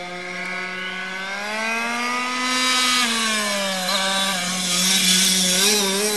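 A Losi 5ive T large-scale RC car's small petrol engine runs steadily after an electric start, a sustained buzzing drone that rises in pitch midway, then wavers and dips with slight throttle changes, close and loud without any talk.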